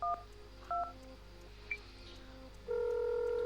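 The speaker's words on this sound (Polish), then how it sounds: "Dzwonimy. Dzwonimy. Wzywamy pomoc." Phone dialing in a video game to call for help after a highway crash: two short touch-tone beeps, a faint blip, then a long steady tone, clean and close.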